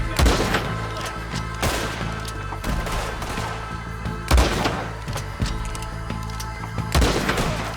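Red Dead Redemption 2 gunfight, with rapid overlapping gunshots and heavy thumping blasts repeating through the scene, dense and loud, with an in-game voice barely present.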